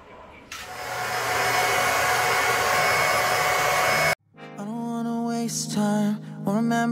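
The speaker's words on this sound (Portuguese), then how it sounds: "Vou aspirar." A vacuum cleaner runs inside a kitchen cupboard, giving off a loud, steady whooshing roar for about four seconds before cutting off abruptly, after which music plays.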